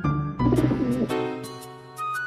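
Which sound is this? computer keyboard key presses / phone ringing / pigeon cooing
pigeon cooing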